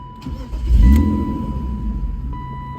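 A BMW M3 engine cranks and catches, rising to a loud low rumble before settling into a steady close-up idle, with no talk.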